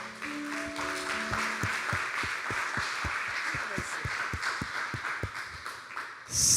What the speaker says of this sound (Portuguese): Você quer aplaudir o Senhor? Pode.